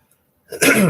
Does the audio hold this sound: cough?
yes